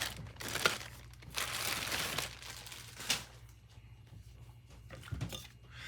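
A bag of replacement parts for a modded Game Boy Advance build is handled up close, giving bursts of plastic crinkling and rustling with brief pauses between them.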